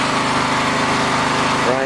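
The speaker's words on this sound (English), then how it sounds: "and we'll go at it with the hot water" Hot water hoses down a Willys Jeep engine in a busy machine shop, a loud steady spray hiss over a droning motor hum, continuous and close.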